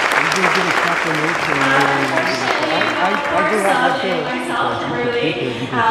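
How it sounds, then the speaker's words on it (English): A crowd at a Central Pacific Bank event in Hawaii gives a loud, sustained round of applause, dense clapping continuing steadily throughout. "Let's give a big round of applause."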